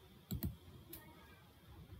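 Two quick mouse clicks close together on the Insert button in Microsoft Word, sharp and near, followed by a fainter third click in a quiet room.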